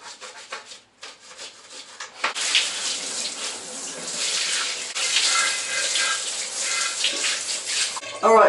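Water streams and splashes over a bicycle being rinsed from the top down indoors, a steady broadband hiss holding for several seconds after a brief quieter start, with a sharp louder spatter at the end.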